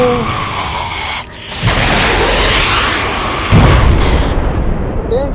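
A tank fires in an animated horror story, producing two heavy booming blasts that burst loudly over a sustained roaring rumble, with no voices.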